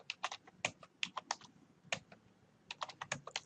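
Numerical data typed on a computer keyboard, heard as quiet, close, irregular clicking keystrokes in quick bursts with short pauses between groups.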